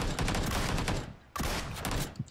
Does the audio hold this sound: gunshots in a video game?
yes